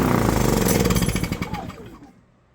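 A Predator 3500 watt inverter generator engine starting: loud, close, rapid mechanical chugging that fades and cuts off after about two seconds.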